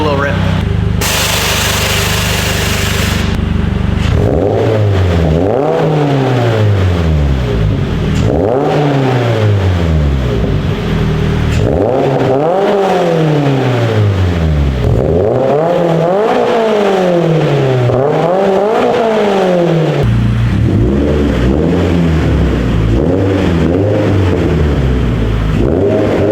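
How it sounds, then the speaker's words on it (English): Inside a shop, a 2022 Subaru BRZ with a Greddy Evo GT catback exhaust revs about five times, each rev rising sharply and falling back to a loud idle, after a brief hiss at the start. "I'll give it a few revs"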